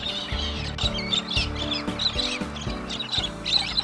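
A flock of several hundred galahs crowds around a cattle water trough at a farm homestead, giving busy overlapping screeches and chirps. Low repeated knocking or clunking runs underneath them.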